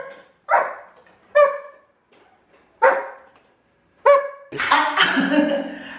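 A dog barks four times in short, separate bursts with pauses between them, fairly close and clear. A longer, rougher yelping or whining sound follows at the end.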